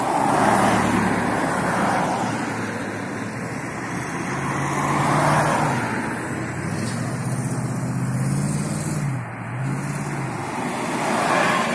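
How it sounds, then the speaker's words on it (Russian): Two buses roll toward a traffic light on an evening city road at Krasny Mayak, a low engine drone growing amid steady traffic hum, with passing vehicles swelling and fading. "Сейчас подъезжают два автобуса."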